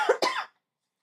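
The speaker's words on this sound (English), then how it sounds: "I will try not to cough in the microphone and be too loud" Two quick, close coughs in succession, sharp and short, followed by silence.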